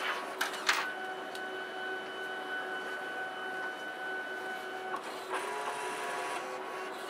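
A Fargo HDPii retransfer card printer prints the second side of a card with a steady mechanical whir and a few sharp clicks, close and alone.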